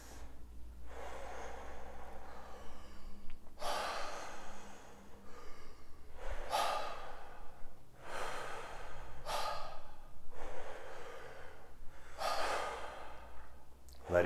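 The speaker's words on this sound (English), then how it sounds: "Exhale goes right into the inhale. Inhale goes right into the exhale." Deep circular breathing in a guided breathwork session: a steady rhythm of about seven long, loud airy breaths, each rushing inhale flowing into a sighing exhale, heard close up without words.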